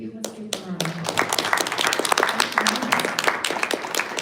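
Audience clapping for performers at a mental health and body acceptance concert, a dense patter of many hands building and continuing steadily, with a voice talking over the start.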